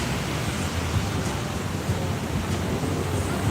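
Steady broadband wash of ocean surf at high tide near the shore in Da Nang, Vietnam, a continuous close roar with no distinct wave breaks and no voices.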